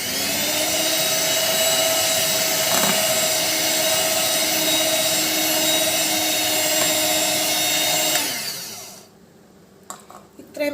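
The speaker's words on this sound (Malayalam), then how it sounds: "ലോ സ്പീഡിലിട്ടിട്ട് ഒന്ന് ബീറ്റ് ചെയ്തെടുക്കുകയേ ചെയ്യാവൂ." An electric hand mixer beats yellow velvet cake batter at low speed, a steady loud whirring drone that runs continuously for about eight seconds before cutting off, leaving near silence with a few faint clinks.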